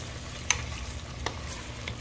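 Food browning in a pan hisses steadily while a utensil gives a few brief stirring clicks and scrapes, heard alone without talk.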